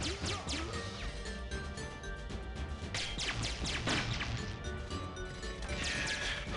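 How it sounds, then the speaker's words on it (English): Grenades going off in the GoldenEye video game, a dense run of sharp cracks and crashing bursts repeating over several seconds with no voices present. "I'm hearing grenades."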